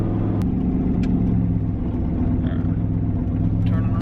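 A boosted street truck's engine accelerates hard, a steady loud low rumble and drone heard from close by throughout, with faint higher whine on top.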